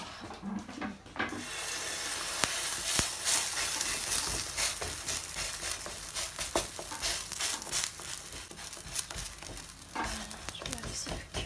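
Stuffed bread dough filled with meat and vegetables cooks in a pan, giving a steady soft sizzle with scattered clicks and scraping handling sounds throughout.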